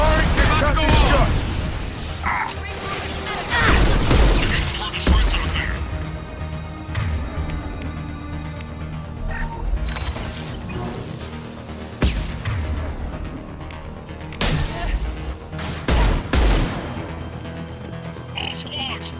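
Heavy concussive weapon shots and booming impacts in a Mass Effect battle, several loud broadband blasts spread irregularly across the clip over dense combat noise and music-like drones, with voices mixed in.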